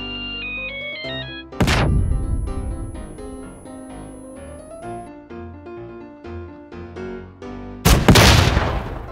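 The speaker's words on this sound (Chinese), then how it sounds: "之后我们测试粘性炸弹和铁拳可以引燃汽油吗？" Two loud blasts in PUBG, a sticky bomb and a Panzerfaust going off against spilled gasoline, the first around two seconds in and the second near the end, each with a roaring burst that sits over game music.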